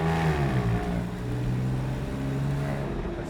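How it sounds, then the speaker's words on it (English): A Porsche 911 997.1 Carrera 4S Tiptronic with an automatic transmission dropping to second gear, its engine droning loud and close, with the pitch dipping and then rising again as it pulls. "Let's drop back to second."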